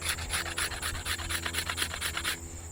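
A stone tool scraping along a wooden bow being shaped by hand, about a dozen rhythmic rasping strokes in quick succession, close and fairly loud, stopping near the end.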